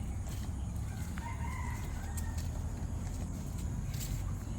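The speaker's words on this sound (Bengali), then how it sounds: "মুরগি আছে হ্যাঁ এখন বের হয়ে বের হয়ে গেছে এই যে মুরগি" Chickens in a garden of medicinal plants, with faint, distant crowing and clucking over a steady outdoor background hum.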